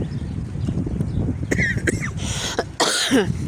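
A few coughs sound in a noisy outdoor setting, one louder burst near the end, with birdlike chirps and rustling around them.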